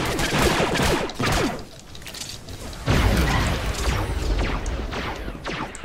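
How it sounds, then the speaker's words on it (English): Heavy artillery pounds a ship in Star Wars: The Old Republic PvP on the Civil War warzone, a series of booming, crashing blasts with mechanical rumble, loud and close, coming in bursts that swell and fade. "Shadow Squad, artillery has locked on your ship."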